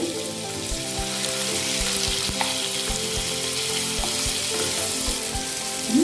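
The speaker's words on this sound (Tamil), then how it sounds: "கேரட்லாம் ஓரளவுக்கு வதங்கிடுச்சு பாருங்கள் தக்காளியும் நல்லா வதங்கிடுச்சு" Carrots and tomatoes sauté for a chutney, giving a steady, close sizzle and crackle from the pan with occasional light stirring taps, and no one speaking.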